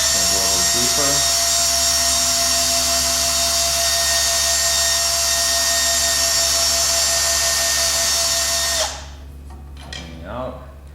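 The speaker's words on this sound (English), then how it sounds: "I'll support the battery end of the drill now as I'm going to go a little deeper" A battery drill bores deeper into a wooden spar with a steady high whine for about nine seconds, then cuts off, leaving a few quieter knocks and handling sounds.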